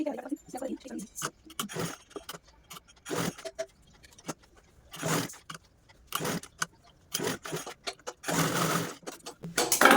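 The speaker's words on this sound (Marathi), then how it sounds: "आता हे स्टिच पण करून घेऊ" A sewing machine stitches a saffron flag in short bursts of rapid whirring, stopping and starting repeatedly close by with quiet pauses between runs.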